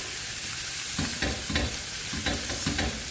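Marinated lamb chops sizzle on a hot griddle pan with a dense, steady frying hiss and soft rhythmic crackles and scrapes, close and even throughout, with no voices.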